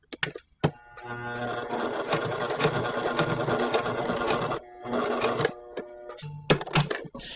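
A sewing machine stitches a welt pocket on a waistcoat in steady bursts, its needle rhythm running continuously with a short pause midway and a few brief restarts near the end, close and clear with no talking.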